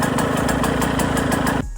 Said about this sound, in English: So I do have it holding idle, as you see.